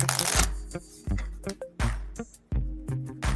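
Playing cards being shuffled by hand in a casual lounge setting, a series of sharp riffling bursts and snaps repeating every second or so, close and fairly loud with no voices.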